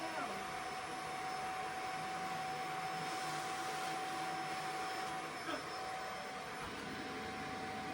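A Hoover vacuum cleaner runs steadily indoors at moderate level, a continuous motor whine and airflow roar with a faint brief knock partway through.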